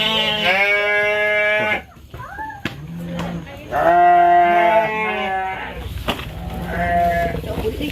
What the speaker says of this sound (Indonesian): yang ini kandang kambing ya